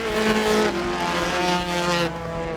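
Race cars roar around a motorsport track during multi-class wheel-to-wheel racing, engines droning loudly and continuously with shifting pitch as several cars pass, tires squealing briefly.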